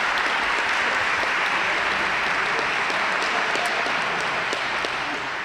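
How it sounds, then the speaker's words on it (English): Sustained audience applause at an outdoor press conference announcing a capital improvements budget at a recreation center, a dense, steady wash of clapping at even volume throughout. "Let's give him a round of applause."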